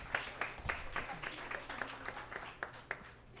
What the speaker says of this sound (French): Donc, bon applaudissement pour notre ami Antoine.